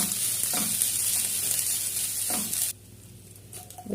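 Grated coconut, dried chillies and crushed garlic hiss loudly as they are stirred in a hot pan, with a few spatula scrapes. The sizzle cuts off abruptly near the end, leaving only a quiet room.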